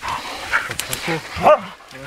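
Hunting dogs bark and yip a few times close by at a wild boar hunt, mixed with people talking.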